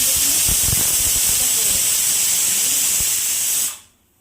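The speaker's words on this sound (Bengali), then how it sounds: "এই প্রেশারটা না সিটিটা গোলমাল করছে" A pressure cooker with a faulty whistle vents steam in a loud, steady hiss that runs unbroken for several seconds before cutting off abruptly.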